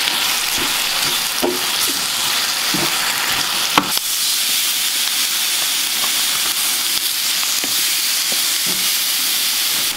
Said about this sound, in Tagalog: Lagay natin ng konting olive oil kasi kailangan ma-prito na siya.